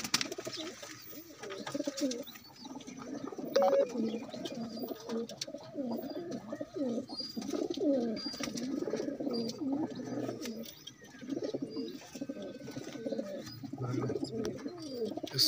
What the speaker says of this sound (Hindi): दुमचीर कबूतरी है।